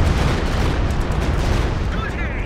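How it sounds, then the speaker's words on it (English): Artillery barrage in the real-time strategy game Company of Heroes 2, a dense continuous roar of low booming blasts and rumbling explosions, loud and unbroken across the moment. "here comes another stupid barrage"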